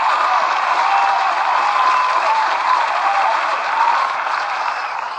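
Crowd applauding a finished 1968 Plymouth Road Runner, dense sustained clapping from a sizable group, steady and close, easing slightly toward the end.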